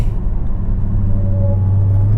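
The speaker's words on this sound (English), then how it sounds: "You know, a full throttle pull." Dodge Hellcat with a velocity stack intake at speed, its engine giving a steady, loud low drone with a faint tone rising partway through, heard close from inside the car, no voices.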